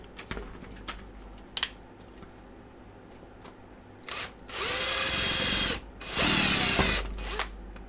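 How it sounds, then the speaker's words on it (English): Power drill driving into a broken Hoover Platinum vacuum handle during a repair, running in two sustained bursts of several seconds each, loud and close, with brief clicks and handling knocks before them. "Get a drill."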